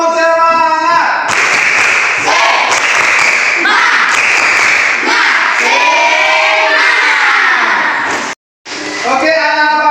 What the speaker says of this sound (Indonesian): Oke, tepuk semangat kembali.